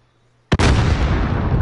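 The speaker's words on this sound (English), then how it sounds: "I'm gonna hold this grenade and throw it right where I think it's gonna hit him." A thrown grenade detonates in a video game: after near silence with a faint hum, a sharp crack gives way to a loud, sustained roaring blast that rumbles on without fading.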